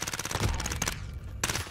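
Rapid gunfire from a shooter video game rattles in short bursts, quick repeated shots that stop briefly and then resume, moderately loud and close.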